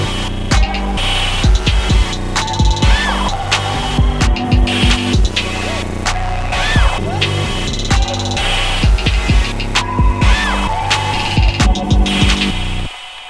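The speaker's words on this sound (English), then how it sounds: "I'm just going to go ahead and play the audio sample now because this multi-band compressor" A dense electronic beat with punchy drums, bass and melodic synth lines runs through a Softube Drawmer 1973 multi-band compressor plugin, loud and steady for the whole stretch with regular rhythmic hits.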